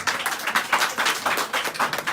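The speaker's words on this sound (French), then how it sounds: "Veuillez applaudir cette dame, s'il vous plaît." An audience claps for a woman in a dense, steady patter of many hands that holds at an even level for about two seconds, with no voices over it.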